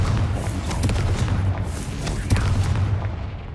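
Confringo blasting spell going off in Hogwarts Legacy, a sustained, rumbling low boom with repeated impacts and crackling bursts that fill the whole clip.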